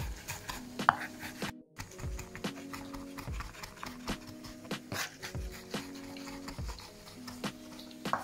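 Steady hand chopping of food with a knife on a board in a home kitchen while making crispy homemade fries, regular sharp knocks in a loose rhythm alongside faint tonal background sounds.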